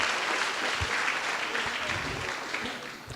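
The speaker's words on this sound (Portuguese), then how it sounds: "Dê um aplauso ao Senhor," A church congregation claps together in sustained, dense applause that holds steady for the whole stretch before easing slightly at the end, with a few low thumps mixed in.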